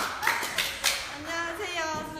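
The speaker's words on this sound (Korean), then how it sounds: "박수." A few sharp, separate hand claps ring out near the start, then a voice speaks over a quieter room at a live broadcast with entertainment agency trainees.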